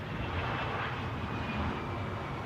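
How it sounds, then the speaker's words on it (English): Steady broadband roar of an Embraer 145 regional jet at London Heathrow, fairly distant and even in level throughout, with no voices. "An Embraer 145."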